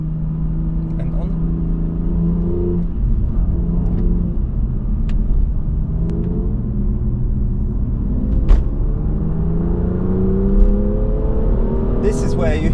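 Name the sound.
car engine with active sound designer on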